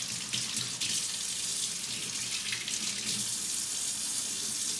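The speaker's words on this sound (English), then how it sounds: "let me wash my hands" Tap water runs steadily into a kitchen sink while hands are washed under it, a close, continuous splashing hiss with slight shifts as the hands move through the stream.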